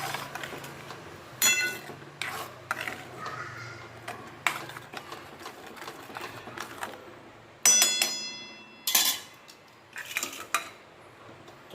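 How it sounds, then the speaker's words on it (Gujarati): Spoon stirring curd in a metal pot for Kathiyawadi dahi tikhari, a series of sharp clinks and scrapes in irregular bursts, close and fairly loud against a quiet background. "આપણે એમાં દહીં રેડી દઈશું બધું સરસ રીતે મિક્સ કરી લઈએ"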